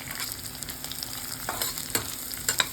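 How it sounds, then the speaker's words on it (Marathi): Garlic, ginger and onion sauté in a hot pan, a steady close sizzle of frying with occasional sharper crackles and stirring scrapes, no voices. "चांगलं परतून घ्यायचं कांदा लावण्यापर्यंत."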